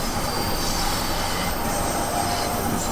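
A London Underground train from Train Sim World 2 runs along the track with a loud, dense, continuous roar, rattling wheels and high squealing, filling the whole scene with no voice.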